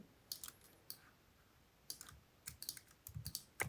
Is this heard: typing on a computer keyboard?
yes